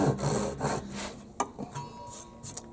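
A Harbor Freight 10-inch, 15 TPI pull saw cuts a clamped piece of wood in slow, raspy strokes that rise and fall, then give way to a few shorter scrapes and taps.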